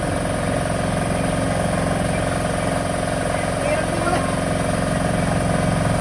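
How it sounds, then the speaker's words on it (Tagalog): A boat engine runs steadily at close range, a constant low throbbing drone with no change in pace, while people talk over it. "Ito yung makina."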